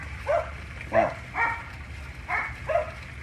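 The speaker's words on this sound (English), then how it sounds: "Never mind my dog's barking." A dog barks outdoors in five separate, evenly spaced woofs at moderate distance over steady background noise, with no one speaking.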